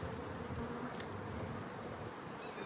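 Honey bees buzzing around an open hive during a spring inspection: a continuous, faint, close swarm drone with no voices.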